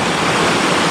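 Jumog waterfall's river stream rushes in a loud, steady, unbroken roar of flowing water close by, with no voices.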